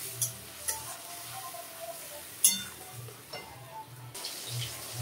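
Spice paste of tomato, garlic, green chili and cumin frying in a pan for a hilsa and taro dish, with faint sizzling under a few scattered clinks and scraping stirs, quiet and close.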